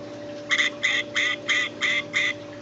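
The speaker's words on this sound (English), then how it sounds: "the duck squawks" A toy duck gives six evenly spaced electronic quacking squawks over a faint steady hum, close and clear.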